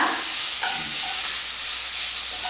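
Meat stir-frying in a pan, a loud, continuous sizzle with steady hiss and faint scraping and stirring movements throughout, close up.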